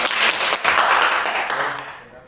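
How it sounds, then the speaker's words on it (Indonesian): Audience clapping closes a presentation on stunting prevention, a dense wash of hands that swells early, holds steady, then tapers away near the end. "Tepuk tangan untuk konsul"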